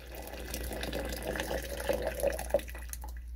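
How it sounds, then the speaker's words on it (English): Hot water at 180 degrees trickles and splashes softly into a glass mug for a few seconds, a faint liquid pour with small drips toward the end. "we're gonna pour the water in"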